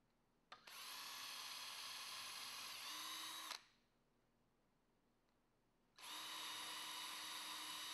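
A power drill driving two-inch number 8 screws flush into a Murphy bed rail whirs loudly in two long bursts, steady high-pitched motor whine, with a brief pause of near silence between them.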